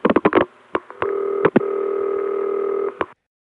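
A rapid burst of clicks and clunks, then a steady ringing tone interrupted by sharp trunk supervision clicks before cutting off, from an early-1980s crossbar tandem telephone switch on a CCSA line.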